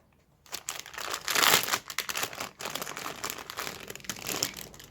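A piece of sticky tape pulled and handled while preparing a diamond painting: close crinkling and rustling bursts, with a louder stretch of ripping crackle near the start, quiet and without talk.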